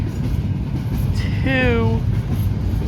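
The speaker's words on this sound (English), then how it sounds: "That is the last train car of this insane 20-minute long train." Cars of a very long freight train rolling past, a continuous low rumble with a brief rising then falling whistle-like tone in the middle, while a voice speaks.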